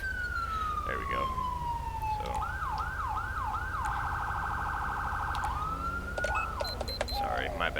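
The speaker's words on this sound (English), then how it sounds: "I was turning off the sirens." A police emergency siren on a Ford Explorer cycles through several patterns: a falling wail, then a rapid yelp, a steady high tone, and short bursts, loud and close over a low rumbling background.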